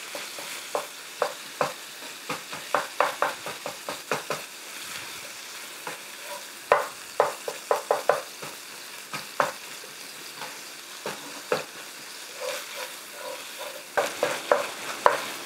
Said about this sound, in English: To just keep moving my taco meat and chopping it up and trying to get it into uniform